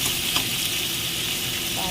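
Steady, close sizzling and frying from a pan, with faint stirring scrapes, continuous throughout.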